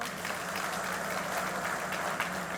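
An audience at a police senior officers' retreat at an event centre in Owerri claps in a steady, moderate round of applause filling the hall, without speech.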